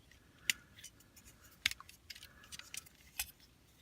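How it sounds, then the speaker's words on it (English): Plastic Transformers Legends figures, Twintwist and Topspin, folded and handled up close, giving a few sharp clicks and light rattles with quieter handling noise between them and no talking. "Fold this up, fold this back. Fold it, fold it, fold it."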